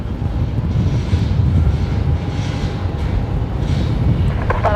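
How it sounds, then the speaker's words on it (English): A Boeing 777 at Brisbane Airport at night produces a steady, broad engine roar that holds fairly loud and constant throughout, without any voices. "That is a 777 there."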